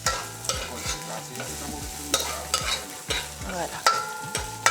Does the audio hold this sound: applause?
no